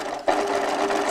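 A sewing machine runs through fabric bunting with a fast, steady motor hum and needle chatter, kicking in sharply after a brief quiet moment and continuing close up.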